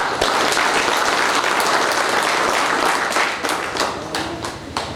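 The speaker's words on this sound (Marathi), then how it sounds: "तर पुन्हा एकदा त्या सत्तर स्पर्धकांसाठी टाळ्या झाल्या पाहिजे" A crowd at a pigeon race prize ceremony applauds loudly and continuously for about five seconds, the clapping thinning slightly toward the end.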